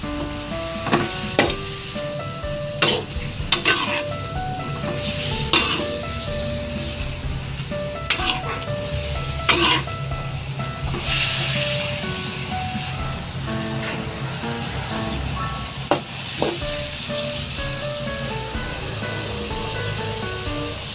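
A spatula stirs sautéed bitter gourd and chicken liver in a pan, giving scattered metallic clinks and scrapes at irregular intervals over a soft, steady sizzle with a faint tonal background.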